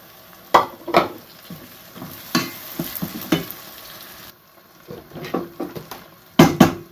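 Onions and tomatoes fry in a pan with repeated stirring, soft sizzling under irregular scrapes and clacks of a spoon against the metal, close and moderately loud, with a quieter pause midway before the stirring picks up again.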